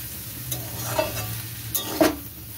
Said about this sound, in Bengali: এটা কিছুক্ষণ নাড়াচাড়া করে নামিয়ে ফেলতে হবে, একটু হালকা একটু ভাজা ভাজা হয়ে গেলে নামিয়ে ফেলতে হবে।